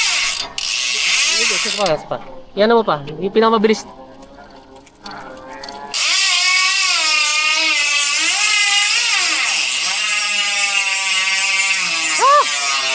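A Speed 1 Sniper freewheel hub on a gravel-fork-equipped 29-inch Everest Pro XC mountain bike ticks in a fast, loud, continuous ratchet while coasting, with a short spoken voice near the start.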